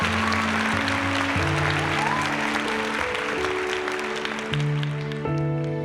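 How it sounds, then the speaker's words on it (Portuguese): Cheering and applause rise from a theatre audience in an audio drama scene, a steady dense wash of clapping layered over sustained music tones for the whole stretch. "Gritou uma voz da plateia e várias pessoas aplaudiram"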